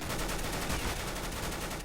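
UMP submachine gun fire in a Counter-Strike match, a rapid, continuous burst of shots filling the whole short moment at a fairly low level.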